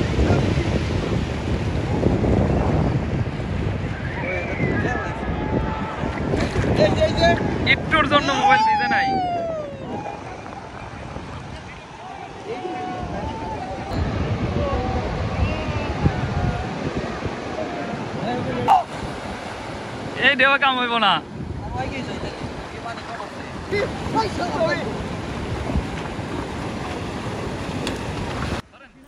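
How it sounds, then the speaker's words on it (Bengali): Big ocean waves surge and crash continuously on the shore at Cox's Bazar beach, loud and near, with wind buffeting the microphone and people talking and shouting excitedly over the surf. "কত বড় বড় ঢেউ আসছে।"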